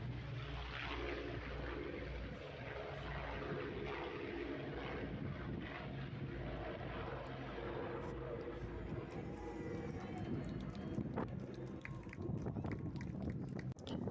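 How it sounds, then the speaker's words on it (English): A Lancaster bomber's propeller engines drone loudly and steadily, building as the plane takes off at Goderich Regional Airport, with a brief clunk near the end. "The plane turned around and here he comes. He's taking off."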